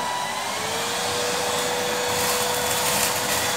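A Henry Hoover vacuum cleaner runs on turbo speed over carpet, giving a loud, steady motor roar and whine that holds without a break and stands alone with no voices.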